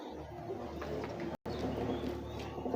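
A dove or pigeon coos faintly in the background at a Monday morning flag ceremony at a school in Kumbung, repeating soft, low calls over steady outdoor ambience.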